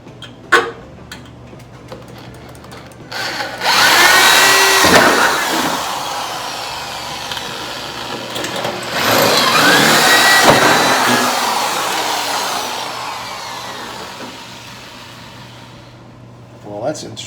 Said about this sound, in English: I'm going to go ahead and drill my 1/8" holes, and then we'll drill those spot welds out.